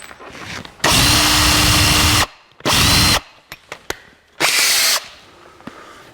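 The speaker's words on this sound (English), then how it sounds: "Take our step drill." A step drill bores through a battery box for a 1949 Chevrolet gasser battery install, three loud separate bursts of drilling split by short pauses with light clicks and handling noises between them.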